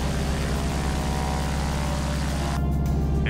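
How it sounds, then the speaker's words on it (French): A propeller airplane in an animated series drones steadily and loudly throughout, its engine tone holding constant with no voices over it. "Vas-y, la piste est dégagée, Locke."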